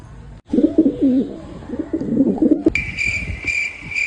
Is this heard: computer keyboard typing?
no